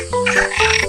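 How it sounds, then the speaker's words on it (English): A green frog croaks in a toddler animal-sounds game, giving a loud, close, continuous run of throaty, strongly pitched calls across the whole short stretch, with no talking. "Green frog."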